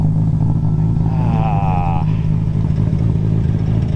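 A 1000hp Nissan Skyline GTR engine revs in a short rising-and-falling burst, the engine note climbing and dropping over a steady low rumble of idling, with people talking nearby.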